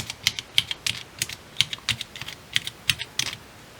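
Fingers type on Cherry MX mechanical key switches of a 4x4 hexadecimal matrix keypad, a run of crisp, close, fairly even clicks with short irregular gaps, heard alone.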